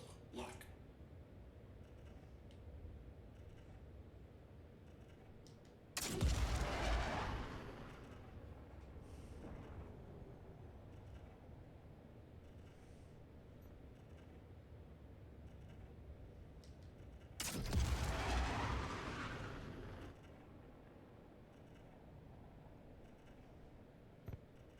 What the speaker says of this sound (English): Missiles are landing.